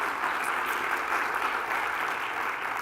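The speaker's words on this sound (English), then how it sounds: "could you please give them a round of applause?" Applause for a school orchestra at a State of the School program: a broad, even roar of many hands clapping, sustained at a steady level from a large audience.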